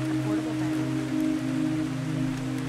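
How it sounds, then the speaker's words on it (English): Steady rain falls throughout an outdoor scene in a horror video game, a continuous hiss over low droning ambience with no talking. "It's raining out here."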